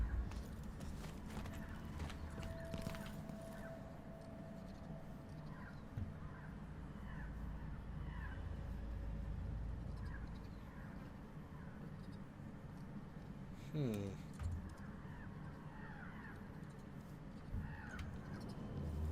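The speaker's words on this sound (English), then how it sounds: "Some weird sounding crows." Crow caws in the stealth game Dishonored: Death of the Outsider, a few scattered harsh calls over a low ambient rumble with faint clopping and footsteps.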